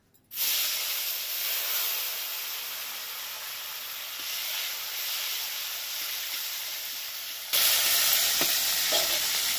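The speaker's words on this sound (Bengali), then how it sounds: "এবার দিয়ে দিচ্ছি একটা গোটা টমেটো।" A whole tomato drops into hot oil with a fried bay leaf, bursting into a loud, continuous hiss and spatter up close that swells even louder near the end, with no voices.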